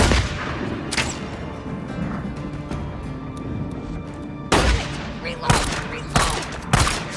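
Gunfire in the video game Days Gone: loud, close bursts of shots and cracks with heavy impacts, scattered across a chaotic firefight, strongest toward the end, with shouted voices mixed in.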